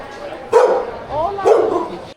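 A dog on a street in Granada, Spain gives two loud, close barks separated by a short pause, with a brief whine-like sound between them.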